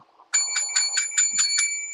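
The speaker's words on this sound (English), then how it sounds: "Ring a little bit of a bell." A small metal bell rings about seven times in quick, even succession, bright and close, with a sustained shimmering tone and nothing else behind it, used while shaking up energy around crystals such as pyrite.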